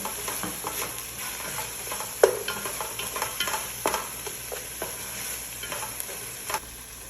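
Spicy mix stirred into an okra and meat stew as it cooks, a steady scraping stir over a soft sizzle, with a few sharper utensil knocks, close and moderately quiet, no talking.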